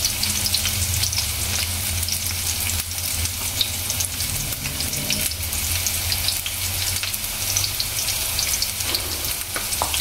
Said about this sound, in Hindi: टमाटर भी फ्राई करेंगे